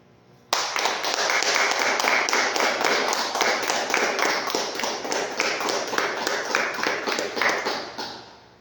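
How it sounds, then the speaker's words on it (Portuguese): A church congregation claps in praise, sustained loud rhythmic clapping that starts abruptly and continues for about eight seconds before fading. "Louvemos ao Senhor com as nossas palmas, em nome de Jesus"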